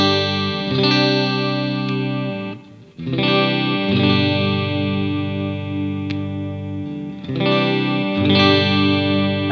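A PRS SE Custom 24 Quilt Top electric guitar in its single-coil setting rings out sustained, bright, chimey chords through effects, loud and close, with two short breaks between strums.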